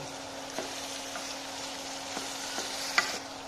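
Onion, garlic and bay leaf being stirred in a pan while they fry for pigeon bhuna, a steady soft sizzle under occasional scraping strokes of the spoon, with no talk.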